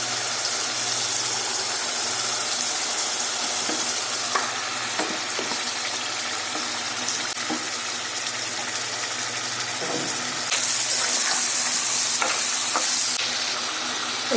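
Chicken pieces frying in spiced masala for a country chicken and potato curry, a loud, steady sizzle with intermittent spatula scrapes and a hissing burst near the end, with no talking.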